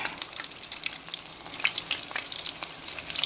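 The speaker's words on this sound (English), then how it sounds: "Going to start dropping my shrimp in" Shrimp sizzle and crackle in super-hot grease on a stove, a dense steady frying hiss with scattered sharp pops, fairly close and without speech.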